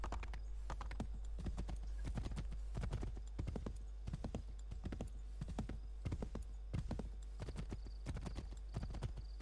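Horse hooves clip-clop at a quick, steady gallop in the video game Assassin's Creed 3, a continuous rhythmic drumming of close hoofbeats, with a brief whinny.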